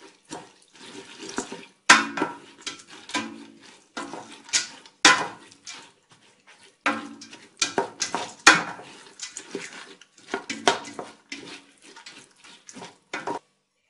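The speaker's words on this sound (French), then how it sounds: "Je vais mélanger un petit peu tout ça." A spoon scrapes and clinks against a cooking pot while lentils are stirred with olive oil for a Moroccan-style lentil dish, giving irregular metallic clatters and wet shuffling at close range with short pauses between strokes.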